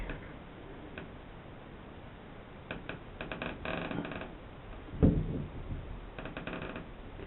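Shower valve stem turning against foam inside a fiberglass shower wall, a soft irregular creaking and ticking that comes in short scraping bursts, close and fairly quiet, with one sharper knock partway through.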